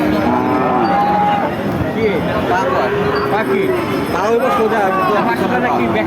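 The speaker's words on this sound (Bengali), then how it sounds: "আপনারা দেখতে পাচ্ছেন বাছুর সহ গাভী" Cows and calves low repeatedly at a busy cattle market, with long drawn-out moos overlapping, close and loud, while someone talks over them and a crowd murmurs behind.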